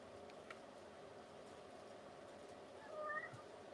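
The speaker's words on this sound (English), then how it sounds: "I hear Cat." A faint, distant cat meow rises briefly near the end over quiet room noise.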